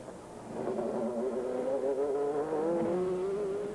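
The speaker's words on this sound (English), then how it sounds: "The number 2 Audi has taken the lead." Audi prototype race car engine at full throttle during a 2001 American Le Mans Series race at sunset, a steady loud drone that rises in pitch as it accelerates, with a second engine tone layered underneath.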